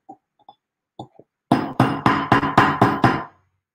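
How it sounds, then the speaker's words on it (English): A hammer striking a silver jump ring on a hard surface, several light taps first, then a rapid, even run of about seven loud metallic blows that stops abruptly. "I'm going to, of course, hammer out another jump ring."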